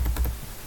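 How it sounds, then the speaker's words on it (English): Computer keyboard keys clicking during typing, a quick burst of three or four close, crisp strokes followed by a faint quiet tail. "the click sound from the keyboard is kind of disturbing"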